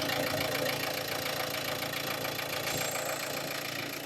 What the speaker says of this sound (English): you will hear the engine tone change as you're applying it also